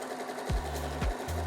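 A Usha Janome Sew Magic sewing machine stitches in short bursts, its rapid needle chatter and motor whir starting and stopping three times, close and loud with no talk.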